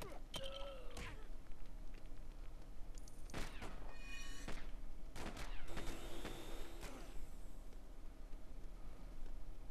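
Enemies fire guns in the Lego Batman video game: sharp bursts of shots and impacts come in scattered volleys over a steady game background, with the clearest cracks clustered in the middle.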